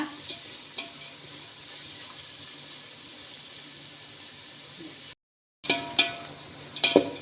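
About ten green chilies and onions fry in a pan with a soft, steady sizzle; the sound cuts out briefly, then returns with a few clattering stirs of a utensil against the pan.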